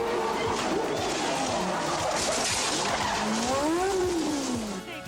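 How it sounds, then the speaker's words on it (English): Tires squeal and skid as a Formula 1 car in an Alfa Romeo goes off the track at Monaco, with sweeping, wavering screeches over a steady engine and crowd roar for several seconds. "Going off, Riccardo Patrese in the Alfa Romeo"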